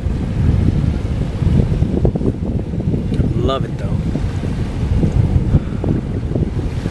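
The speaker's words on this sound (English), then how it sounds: "It's windy." Wind buffets the microphone with low rumbling gusts, and a person speaks briefly over the blustery outdoor noise.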